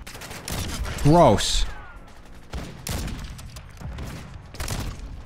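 Gunfire from a weapon in a first-person video game, a few sharp shots including a loud burst, heard over a player's brief spoken reactions.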